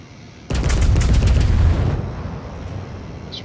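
A warship's guns fire a volley in a naval video game: a sudden heavy blast that booms for over a second, then fades into a long low rumble.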